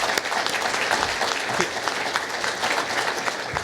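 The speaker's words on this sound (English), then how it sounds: "And a round of applause for Pierre." A luncheon crowd at an economic forecast event gives steady, moderately loud applause, a dense patter of hand claps with no talking.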